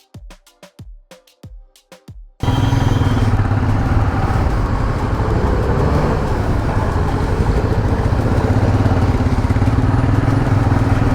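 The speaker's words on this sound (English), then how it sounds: "I'm about to test ride one of the Himalayans" A Royal Enfield Himalayan motorcycle in Medellin gives a few spaced, sharp knocking pulses. Then a loud, steady engine roar takes over and holds close for the rest of the ride.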